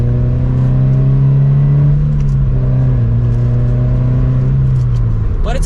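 A Subaru BRZ or Toyota 86 sports car accelerates hard with a steady, loud engine drone that rises in pitch, dips briefly at a shift around the three-second mark, and climbs again.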